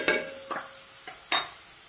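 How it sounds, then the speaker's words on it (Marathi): Spinach and potato mixture stirred in a pan, heard as a few soft scraping strokes spaced about half a second apart with quiet gaps between them. "तर आता हे मिक्स करून याच्यात आपण पालक घालणार आहोत"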